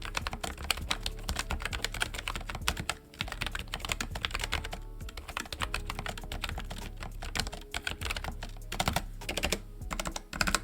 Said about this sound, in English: my go-to recommendation now for anyone looking to get started with a mechanical keyboard